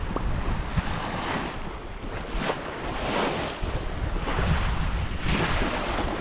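On a sailboat crossing open sea toward Italy in about 13 knots of wind, a steady roar of wind buffets the microphone over the rushing wash of waves along the hull.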